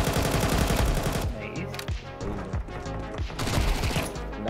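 Rapid automatic gunfire in Counter-Strike 2 ranked play, loud bursts of shots at the start and again near the end, with sparser clicks and game sounds between and a voice speaking faintly underneath.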